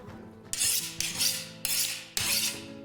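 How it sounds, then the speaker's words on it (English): Four sharp, loud strikes about half a second apart, each followed by a bright scraping rasp, like a knife chopping garlic on a board and dragging across it. "Time to get chopping."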